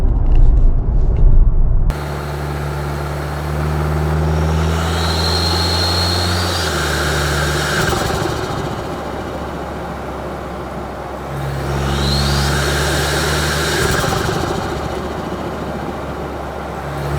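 A 2024 Toyota Tacoma overland build accelerates hard, its engine a loud, sustained drone that swells with rising whine twice over about fifteen seconds, following a brief burst of noise at the start.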